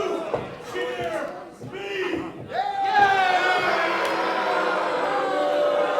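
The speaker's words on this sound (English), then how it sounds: "this crowd is insane. I can't even hear myself talk" Loud, dense crowd noise at a combat championship event, cheering and shouting that swells and stays roaring; a voice talks over the din early on.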